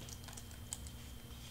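Quiet, close typing on a computer keyboard, a short burst of light key clicks over a low background hum.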